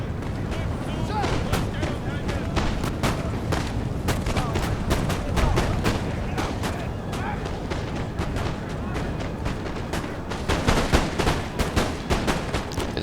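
Rifle volleys in a Napoleon: Total War multiplayer battle on a pyramids map: dense, continuous crackling musket fire with overlapping shots and booms, loud and sustained, with a thicker burst near the end.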